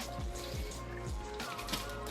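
Marinade poured into a bag of thin-sliced top round beef for jerky gives a steady liquid trickle and slosh, with low thumps throughout.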